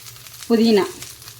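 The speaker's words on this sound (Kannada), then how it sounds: "ಇದಿಷ್ಟು ಈಗ ಹಾಕಿ ಫ್ರೈ ಮಾಡ್ತೇನೆ" Fenugreek, curry and coriander leaves hit hot oil in a pan, giving a sudden loud sizzle that flares for about a third of a second and then quickly settles back to a low background hiss.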